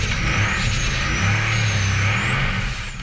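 A formula offroad car revs its engine hard while climbing a very steep hill at an Icelandic competition in Hafnarfjordur, a sustained loud engine drone with a wavering high whine and shifting pitch.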